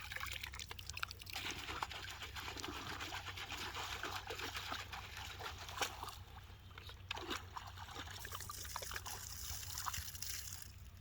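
Sampling bottle rinsed with lake water from a boat at the Kawartha nearshore: steady trickling and sloshing of water, faint and continuous over low background rumble, with no talking.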